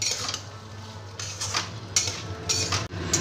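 Fried potato and pointed gourd stir-fried with spices in a pan: repeated metallic clinks and scrapes of a spatula against the pan over a low hum, several sharp strikes near the end, no talking.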